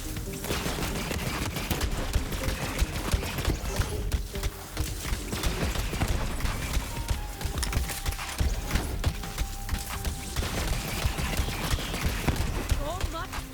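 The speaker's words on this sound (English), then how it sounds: "It creates more projectiles the longer you fire it." Legendary weapon fired in Borderlands 3's Bounty of Blood DLC, a loud, dense barrage of rapid rattling shots and projectile impacts that runs almost unbroken for the whole stretch, with faint voices mixed underneath.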